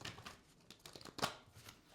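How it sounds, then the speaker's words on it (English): A deck of stiff tarot cards is shuffled by hand, giving faint, scattered papery flicks and crinkles with one sharper slap near the middle, close and quiet with no talk. "I love these cards, but they really are hard to shuffle."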